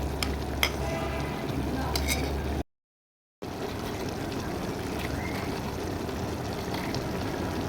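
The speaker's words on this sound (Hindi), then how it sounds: "ये ऐड करके मैं थोड़ा सा इसको भून लूँगी।" Mutton frying in a pan with ginger garlic paste, a steady close sizzle with stirring scrapes and a few clinks, broken by a brief gap of silence.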